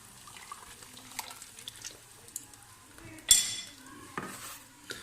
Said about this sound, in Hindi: बैटर को डालते ही इसको आपने अच्छे से चलाना है ताकि आटा नीचे बैठ ना जाए